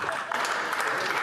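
Sustained broadband clapping from members in the House of Commons during Question Period, steady and dense throughout, with murmuring voices mixed underneath.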